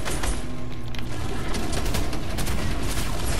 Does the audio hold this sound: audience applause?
no